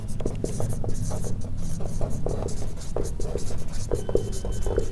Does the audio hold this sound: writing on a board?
yes